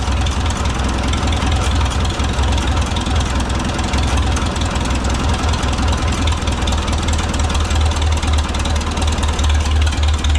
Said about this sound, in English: Hear how the engine started to labor.